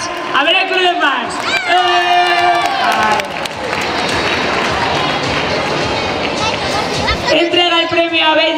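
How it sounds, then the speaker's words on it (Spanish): An audience at a carnival prize ceremony on stage bursts into loud cheering, shouting and clapping, with children's voices prominent. Excited calls rise and fall over a dense crowd roar that swells in the middle and stays busy to the end. "Un aplauso para ella."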